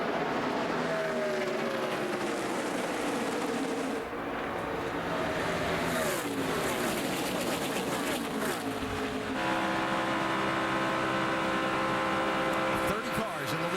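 NASCAR Nationwide Series stock cars racing in a 30-car lead pack at Talladega in 2012, a continuous loud engine roar and drone that shifts in pitch as the pack passes, with commentators talking over it.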